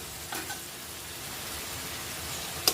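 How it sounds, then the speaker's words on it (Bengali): Shrimp and spices fry in a pan for a Bengali green jackfruit curry, giving a steady, moderate broadband sizzle with a couple of soft stirring scrapes near the start and a sharp clink at the end. "চিংড়ি মাছ আর মশলা কষিয়ে নেব"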